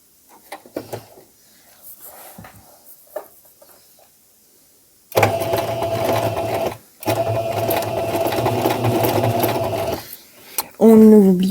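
A sewing machine sewing an obi belt with a 1 cm seam allowance runs loud and close in two long steady whirring stretches, after scattered quiet handling sounds, with brief talk near the end.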